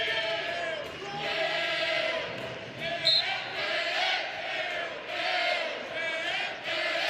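A crowd at a college wrestling match between Oklahoma State and Oklahoma chants and sings in swelling waves, loud and steady, with commentators talking over it.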